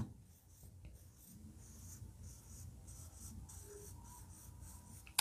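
A blue pen scratches across paper in a run of short strokes, soft and close, drawing long and short tubes of a cockroach's reproductive system in a quiet room.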